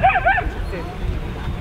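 A dog yips and whimpers in short bursts at the start, fairly close, followed by a low background rumble.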